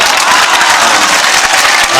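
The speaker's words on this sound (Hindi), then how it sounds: "अब आप जरा सा ताली बजा के बताओ" A full mushaira poetry audience claps loudly and continuously, a dense crackle of many hands with a few faint cheers mixed in.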